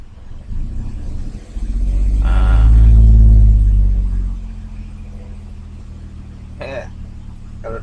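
Toyota Agya car engine at idle, then a single swelling rev as the throttle is pressed, peaking loud and deep before settling back to a low idle hum.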